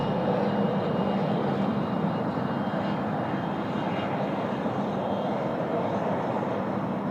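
An aircraft arriving at Sydney Airport from Napier makes a steady, fairly loud engine roar that holds constant throughout without any voices.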